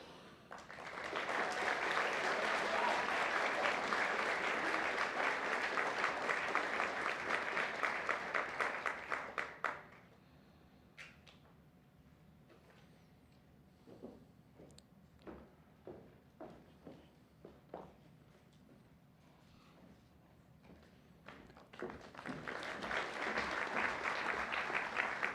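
Audience applause at a Hartwick College honors convocation as a graduating honors student is named: a full burst of many hands, a lull of scattered individual claps, then another swell of clapping.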